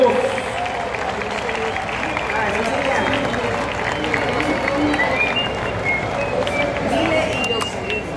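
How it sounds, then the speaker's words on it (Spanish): A crowd claps and cheers for a salsa orchestra at a hotel carnival night, a loud sustained wash of applause with voices and shouts mixed through it. "Pero bien fuerte el aplauso, bien fuerte el aplauso para la orquesta de Ricardo Rey y Bobby Cruz."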